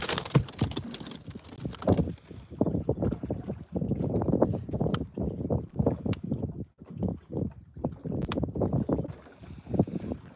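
Gusty wind buffets the microphone in rough, uneven bursts, loud and close, with brief lulls between blasts.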